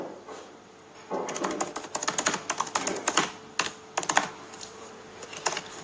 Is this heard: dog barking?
no